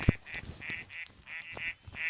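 Several short nasal duck quacks in quick succession, clear and close, repeating at an uneven rhythm.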